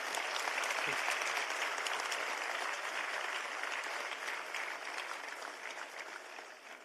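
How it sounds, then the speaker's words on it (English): Audience at a literary and cultural evening breaks into a steady, dense round of applause that holds evenly for several seconds, then gradually tapers off, with no voices over it. "Can we have another round of applause for this committed lot?"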